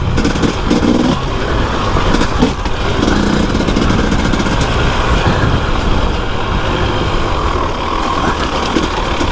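A motorcycle with a new WP 45 Nm rear spring rides a wet green lane near Claerwen Dam in the Elan Valley, its engine droning loudly and continuously with rough, bumpy variations and wind buffeting the microphone.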